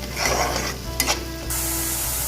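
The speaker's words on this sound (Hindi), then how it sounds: "इस वक्त मैं यहाँ पे डालूंगी जो मेरा जिंजर गार्लिक पेस्ट है वो, और इसको मैं 2-4 मिनट के लिए चला दूंगी" Ginger garlic paste frying in a pan for an egg malai curry, with a steady close sizzle and a few scraping stirs of a spoon against the pan.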